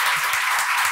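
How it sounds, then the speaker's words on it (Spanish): An audience at a book-fair talk breaks into sustained, dense applause. The many hands make a steady, loud, close wash of clapping. "Un aplauso para ella"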